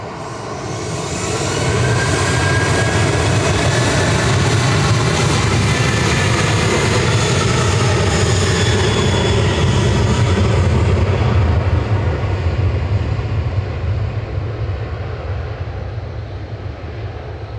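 A Ryanair jet departing Manchester Airport for Torino builds into a loud, sustained engine roar with whining tones, holding near and heavy for most of the stretch before easing slightly toward the end, with no talking.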